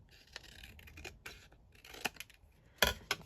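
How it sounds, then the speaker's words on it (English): Scissors snipping down a folio flap, a few close, crisp cuts at irregular intervals with a sharper snip near the end, no talking. "so I might have to just cut this down slightly"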